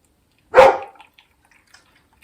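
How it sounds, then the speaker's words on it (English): A dog barks once at a door, wanting to be let in, a single sharp bark fairly close and loud, followed by a few faint ticks and near silence. "That's a dog at the door that wants in,"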